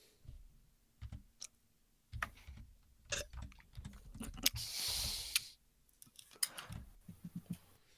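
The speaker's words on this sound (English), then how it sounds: "I'm typing in the damage." Someone types on a computer keyboard in quiet bursts of rapid, light key clicks separated by short pauses, close and soft, with no voices over it.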